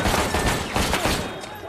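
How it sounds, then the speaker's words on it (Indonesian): Rapid burst of gunfire in the film Death Wish, a dense fusillade of overlapping shots ringing out loudly and continuously for under two seconds with no pauses. "Paul langsung menembak 3 orang yang ada di sana."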